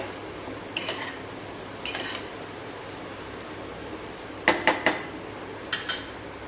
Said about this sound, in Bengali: সব ভেজে রেখেছিলাম চিকেন, ডিম, সবজি, সেগুলো দিয়ে দিলাম। হালকা হাতে নেড়ে